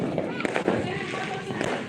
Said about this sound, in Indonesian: suara petasan dan kembang api